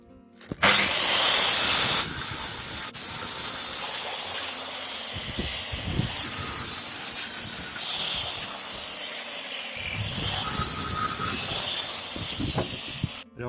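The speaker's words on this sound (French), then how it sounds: "Je vais les débiter en morceaux de 20 cm à l'aide d'une scie circulaire." A circular saw whines with a high hiss through several cuts of pallet wood into 20 cm pieces, separated by short pauses and clunks as pieces are handled.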